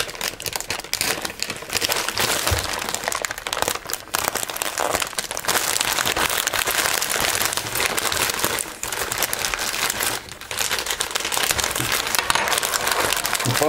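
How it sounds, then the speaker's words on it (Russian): An AliExpress parcel of knee pads packed in a double plastic bag is unwrapped up close, with loud, continuous crinkling and rustling of the plastic throughout. "мы с вами будем сейчас распаковывать посылочку, которая пришла вот совсем недавно."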